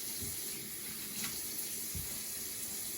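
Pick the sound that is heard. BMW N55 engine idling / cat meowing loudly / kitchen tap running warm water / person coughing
kitchen tap running warm water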